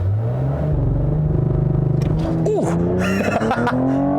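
A 2020 Cadillac CT5-V sits on launch control, its engine held against the rev limiter in a loud, close, steady stutter with a rising tone, and a short exclamation of approval over the top.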